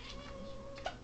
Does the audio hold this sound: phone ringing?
no